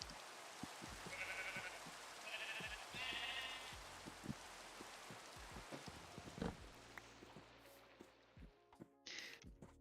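Steady rain hisses through a Minecraft thunderstorm, with a few sheep bleats rising over it early on and scattered clicks and game sounds on top of the constant downpour.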